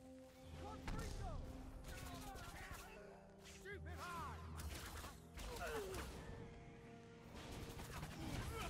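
A Confringo blasting spell goes off in the Harry Potter and the Deathly Hallows Part 2 PC game, with repeated sharp explosive bursts and crashes layered over game music and character shouts.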